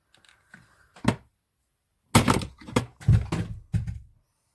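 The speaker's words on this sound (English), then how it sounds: "Excuse the bump, that was my glue gun falling over." A hot glue gun topples over on a craft table, giving a sharp bump followed by a few rattling knocks as it settles, clear and close in a quiet room, with faint handling noises before it.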